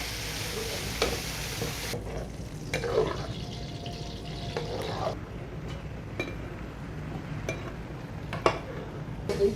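Cured Chinese bacon stir-fried in a wok makes a loud hiss that drops to a softer sizzle, broken by sharp metallic scrapes and clanks of the spatula at irregular intervals.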